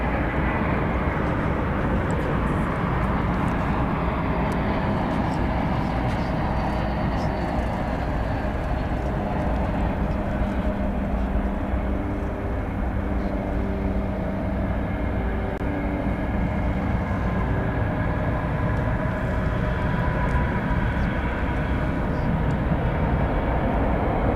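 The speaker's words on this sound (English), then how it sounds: "That was American Flight 1535 arriving from Salt Lake City, Utah." American Airlines jet from Salt Lake City arriving at DFW Airport at night, a loud, steady broadband engine roar that lasts throughout, with a low rumble and a faint rising whine.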